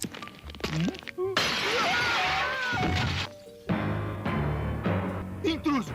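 A glass roof shatters as Homer falls through it in The Simpsons, a loud, sustained crash of breaking glass mixed with cartoon voices and brief sliding tones.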